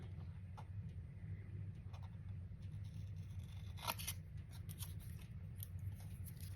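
Scissors snip through paper tag stock for a Christmas junk journal, a few faint, brief cuts over a steady low background hum.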